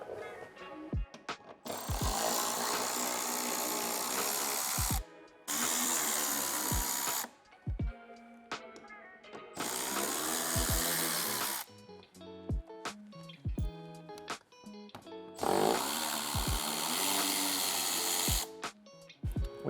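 A power tool removes 10mm bumper bolts on a 2025 sixth-generation Toyota 4Runner, whirring in repeated close bursts of several seconds each, separated by short quiet pauses and clicks.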